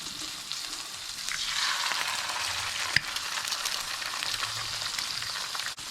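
A single egg sizzles steadily in a hot pan while a burger is cooked, a continuous bright crackle with one small tap partway through, close and fairly even in loudness.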